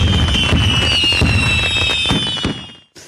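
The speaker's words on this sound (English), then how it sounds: "Come on, fireworks." Fireworks explode in a rapid crackling barrage with whistling rockets rising over the top, loud and close before the bursts cut off abruptly near the end.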